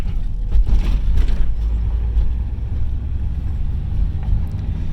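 A 1992 Honda Accord Wagon's engine under throttle while driving, a loud, close, low droning rumble with some surging and wind buffeting, holding steady without a clear rev climb.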